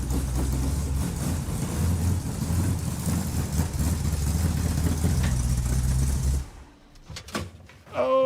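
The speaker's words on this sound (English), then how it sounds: "This thing revs pretty good for a motorhome motor." Motorhome engine revving hard, heard from inside a car during a 440 Dart road trip: a loud, steady low roar for about six seconds that cuts off abruptly, leaving brief faint knocks.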